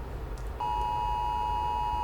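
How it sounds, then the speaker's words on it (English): After a short noisy lead-in, a steady electronic alarm tone switches on and holds as a continuous pure beep, moderately loud over a low background hum. "Another way they attract your attention to go read that thing is using an alarm, so an audio cue."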